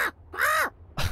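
A bird caws in the video game Deponia, three loud, close, harsh calls in quick succession with short gaps between them, heard alone.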